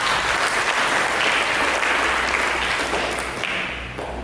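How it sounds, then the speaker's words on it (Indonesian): A congregation applauds during a church sermon, with loud, sustained clapping and a low hum underneath that tapers off slightly in the last second. "Mari kita berikan tepuk tangan."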